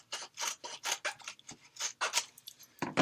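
Scissors cut through burlap in quick, close snips, a rhythmic series of crisp, rasping cuts with brief pauses between strokes.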